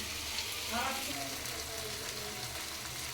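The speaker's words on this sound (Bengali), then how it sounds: "এখন পেঁয়াজটা ভাজা ভাজা হলে ওই মশলাগুলো ঢেলে দেবো" Sliced onions fry in hot oil for a meat curry, giving a soft, steady sizzle with faint stirring throughout.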